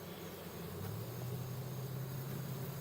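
Honey bees in a hive box packed full of bees, a steady low droning buzz with a constant hum throughout, fairly faint and close, with no talk.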